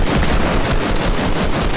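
Rapid bursts of automatic gunfire from an online duo shooter match, loud and continuous, a dense crackling volley with no pause.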